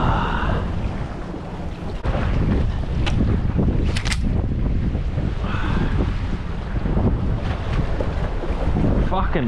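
Strong wind roars across a coastal headland and buffets the microphone in heavy, continuous gusts, with waves surging beneath and a few brief voice sounds breaking through.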